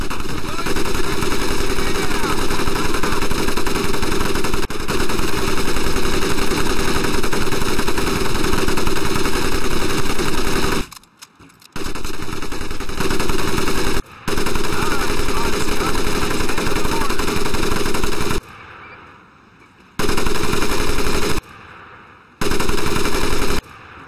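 M1919A4 .30 caliber machine gun firing in Medal of Honor: Pacific Assault boot camp, loud long sustained bursts of rapid automatic fire broken by short pauses, close and dominant.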